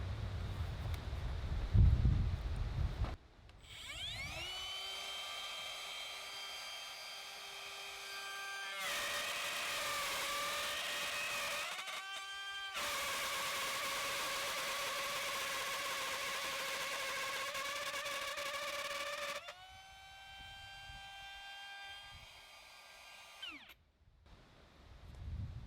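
A Milwaukee M18 1/2-inch cordless router spins up to a steady high whine and then cuts 50 mm deep into wood in one pass. The loud, sustained tone dips in pitch under load before it spins down.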